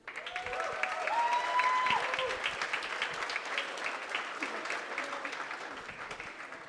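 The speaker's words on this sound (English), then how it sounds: "give one last round of applause to everyone who spoke tonight" A wedding reception crowd gives a round of applause, dense clapping that swells early and then continues steadily, with a few voices and cheers mixed in.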